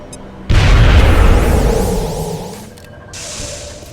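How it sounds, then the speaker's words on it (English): A grenade detonates in XCOM: Enemy Within with a sudden loud boom and broad roaring blast that slowly rumbles and fades, followed by a shorter whooshing burst near the end. "I feel like the correct move is to just drop a grenade"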